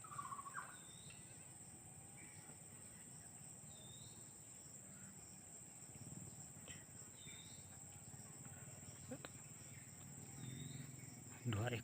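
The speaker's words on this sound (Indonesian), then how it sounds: "Murai batu tuh bosku," Two white-rumped shamas (murai batu) sing from high trees in a forest, their short whistled phrases distant and faint, repeating every few seconds over a steady hum of insects.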